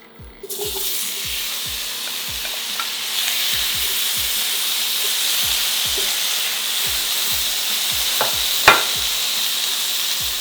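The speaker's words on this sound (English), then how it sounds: "I'm going to heat up the skillet here with all of that beautiful bone marrow in it. So I'm gonna throw these in now." Sirloin steaks sizzle steadily in a hot skillet with bone marrow, a continuous close frying hiss that starts after a brief quiet moment, with a sharp clink near the end and a low repeating thump underneath.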